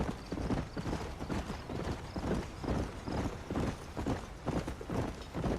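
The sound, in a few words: horse hooves walking in the video game Red Dead Redemption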